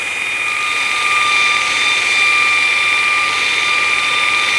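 A Vevor 2x82 belt grinder runs with a worn abrasive belt grinding material, giving a steady, loud, continuous whine with strong sustained tones and an even hiss from start to finish.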